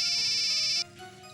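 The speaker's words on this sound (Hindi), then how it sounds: "तेरा मोबाइल बज रहा है।" A mobile phone ringtone plays as a bright, steady electronic tone for under a second, then cuts off, leaving quiet indoor background.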